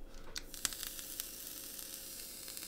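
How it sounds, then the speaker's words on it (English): A Bulli A2-T rebuildable atomiser sizzles during vaping: a faint, steady crackling hiss broken by a few brief sharp pops close up. "As you can hear, all vaping nicely."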